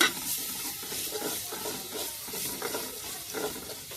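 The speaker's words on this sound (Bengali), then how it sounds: "দুই মিনিট ধরে আমি কষাবো একটু ভালো করে কষাবো" Garlic and green chilies stir-frying in a pan for a prawn and taro dish, with a steady broadband sizzle and repeated scraping stirs, close and fairly loud, with no talking.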